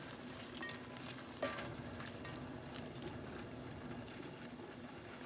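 Onions stirred into green beans sizzling steadily in a pan, with a single sharp clink of a utensil against the pan partway through and a continuous close frying hiss throughout.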